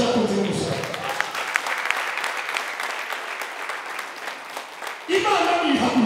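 A crowd at a church gathering of young people claps in sustained, dense applause for about five seconds before a voice breaks in over the fading clapping.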